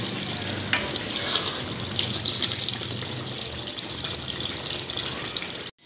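Water poured into a large pot of cooked beef, potato and masala for beef biryani, a steady close gushing and sizzling wash that runs for several seconds without talk.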